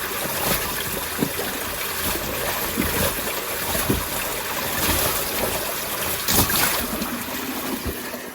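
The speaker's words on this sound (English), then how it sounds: "He just splashed me." Water splashes and trickles in a beaver dam culvert choked with mud, making a continuous wet rushing with scattered louder splashes close by.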